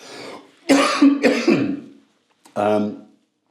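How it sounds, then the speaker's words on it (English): A person coughs in a few harsh, throaty bursts, then after a short pause clears the throat once more, close to the listener. "I've got a bit of a cough."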